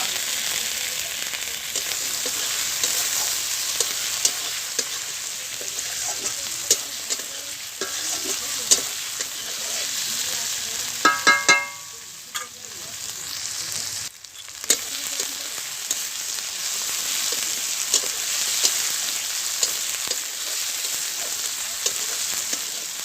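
Onion, garlic, green chili and tomato frying in a wok, a steady close hiss of sizzling oil broken by scraping stir strokes, with a brief clatter of the spoon partway through and no talking.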